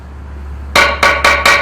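Jungle Grey marble stone slab from Buner being tapped to test its hardness: four sharp, bright ringing knocks in quick succession, close and loud against a quiet room with a low steady hum.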